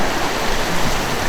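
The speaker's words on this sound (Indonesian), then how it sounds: "Hujan gede." Heavy rain pours down outdoors as a steady, dense hiss of water that fills the whole moment without pause or change in strength.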